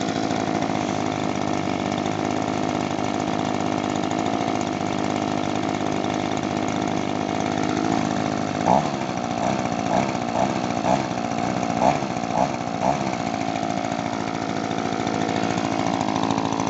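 An Echo PB-2520 gas-powered leaf blower drones steadily at a slightly high idle, then gives a series of short throttle bursts near the middle before settling back, loud and close.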